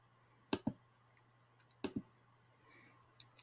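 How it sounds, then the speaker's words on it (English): Computer mouse clicking a hyperlink: two quick double clicks followed by a single click, crisp and close in a quiet room. "So, go ahead and click on that."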